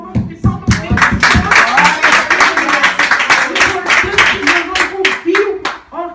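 A congregation claps hands together at a church prayer service, strong rhythmic clapping in a steady beat with singing voices carrying over it, fairly close and loud.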